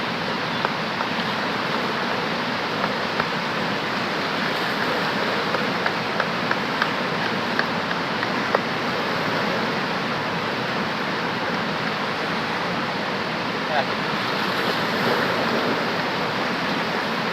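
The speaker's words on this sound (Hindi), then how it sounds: "ये दरिया का पानी है, ये बड़ा तेज पानी है" The fast-flowing water of the Neelum River rushes in a dense, steady roar, close and loud, continuous for the whole stretch with no voices over it.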